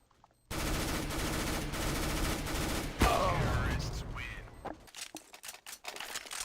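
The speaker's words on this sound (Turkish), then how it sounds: "Bak hala ben adamlara silah atıyorum." A P90 fires long, rapid automatic bursts in CS:GO, loud and close for a few seconds before giving way to scattered sharper shots and clatter.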